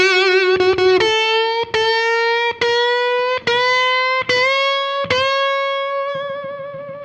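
Distorted electric guitar plays a blues lick of climbing string bends, each picked note pushed up step by step in a rising staircase, loud and close with no talking.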